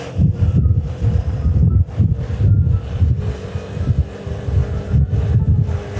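Wind roaring past a BMW C1 scooter on the move, loud low buffeting gusts that thump in irregular pulses against the microphone, with a faint steady engine-like hum beneath.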